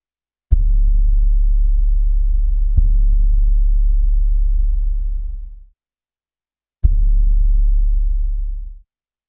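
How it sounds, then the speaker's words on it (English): Three deep, sustained sub-bass booms, each swelling in suddenly and decaying over a few seconds, with a brief silence before the last one. "there are some really, really low booms which actually occur,"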